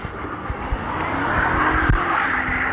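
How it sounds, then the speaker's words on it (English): Loud cars passing on a street during a walk, a close rushing engine and tire roar that swells and holds for a few seconds. "there's some cars that are kind of loud"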